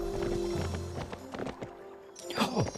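A horse in the video game Barbie Horse Adventure: Wild Horse Rescue (2003), with quick clip-clop hoofbeats and a short whinny, heard alongside game music.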